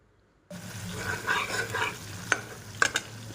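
Masala paste with chilli powder, salt and dried fenugreek leaves fries in a pan for crab curry, a steady close sizzle with stirring scrapes and a few sharper clinks of the spoon.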